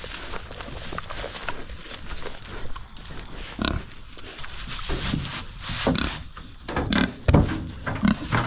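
Idaho pasture pigs grunt and snuffle close by, with low oinks scattered over shuffling hooves and rustling movement near a trailer.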